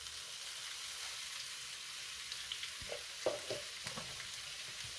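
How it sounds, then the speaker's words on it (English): White onion, tomatillo and jalapeno sauteing in a pan give a soft, steady sizzle, with a few quiet scrapes and clinks of stirring partway through. "Next, we're going to start sauteing up our vegetables."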